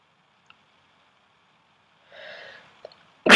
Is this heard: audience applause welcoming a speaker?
no